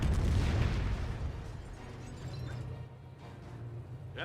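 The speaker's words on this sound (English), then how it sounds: "5P rocket barraging on in" A rocket barrage in Company of Heroes rumbles as deep booming blasts, loudest at the start and rolling on at a steady low roar, with a few sharper distant pops near the end.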